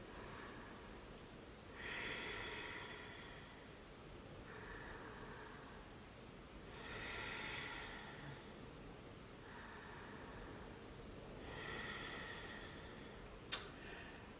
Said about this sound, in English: we're just breathing in and out, a whispering breath, a gentle breath